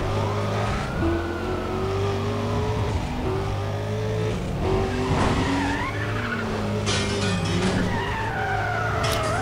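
A heavy, sluggish car in Need for Speed Undercover skids and squeals its tyres over a constant engine drone. The race-game sound is loud and continuous, with sliding tyre whines rising and falling and no talk.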